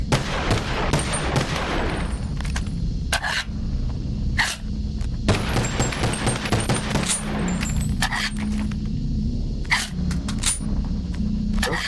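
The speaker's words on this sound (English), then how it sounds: "Up next is the 1911 from Black Ops 1" A 1911 pistol from Black Ops 1 fires repeatedly in the VR game Bonelab, sharp, close shots in irregular bursts with metallic clinks of casings and handling between them.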